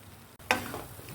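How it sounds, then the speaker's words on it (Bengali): A single short scrape and sizzle as spices with turmeric, red chili powder, salt and tomato sauce are stirred in a hot pan for mutton biryani, one quick burst over a quiet background. "ভালো করে নাড়িয়ে নেব।"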